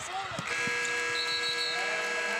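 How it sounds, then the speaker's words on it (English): At a high school boys basketball state championship game, the end-of-game buzzer drones steadily through a noisy arena crowd as a commentator talks over it. "And the buzzer goes off."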